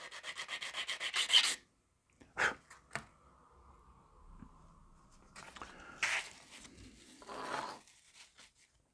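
Wooden Mayflower model ship pieces sanded by hand, with a rapid run of rhythmic rubbing strokes, then scattered scrapes and a few more short sanding passes, close and without talk.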